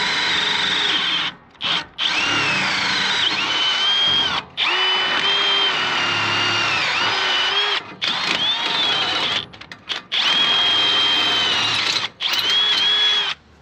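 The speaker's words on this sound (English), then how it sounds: "So we'll go ahead and get those holes drilled" Power drill boring bolt holes through wood during storm repairs, running in several long loud whining bursts with brief pauses between them, no talking.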